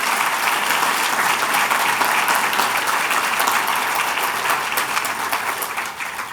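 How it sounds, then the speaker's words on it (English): Sustained round of applause from an awards dinner audience honouring an education hero, dense steady clapping that holds loud for several seconds before easing off slightly at the end, with no talking over it. "So I'd like to give her a round of applause for the work she does."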